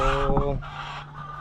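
Pet chickens clucking in a coop, a short close burst of rooster-like calls fading into softer background clucks.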